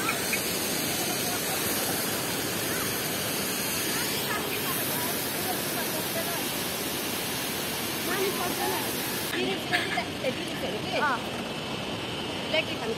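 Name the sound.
small waterfall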